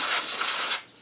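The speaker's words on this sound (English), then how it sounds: "The best thing you can do is just shoot carburetor cleaner through it." Carburetor cleaner sprayed from an aerosol can onto an 11 HP Briggs & Stratton carburetor, a close, steady hiss lasting under a second before tapering off, with no talk.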